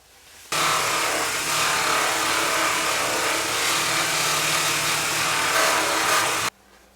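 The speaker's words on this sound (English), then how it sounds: "I'm going to take it to the buffing wheel" A buffing wheel polishes a cast resin ice cream scoop handle held on a mandrel, a loud, even whirring roar that starts suddenly, holds steady for about six seconds, then stops.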